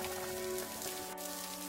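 Steady rain falls in a village, a dense even hiss running unbroken throughout, with sustained tonal music underneath.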